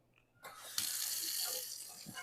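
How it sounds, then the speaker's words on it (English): Tap water suddenly starts splashing into a basin, a steady hissing gush close by with faint clatter. "We'll make sure the water is on cold."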